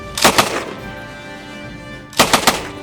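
Real weapons firing on a military weapon range. Two loud, close bursts of rapid gunfire, each a quick cluster of sharp shots, are separated by about two seconds of ringing, humming quiet.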